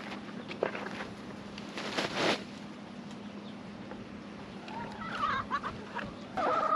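Chickens cluck softly at a moderate distance while eating lettuce, with scattered low clucks and rustling footsteps over a quiet outdoor background.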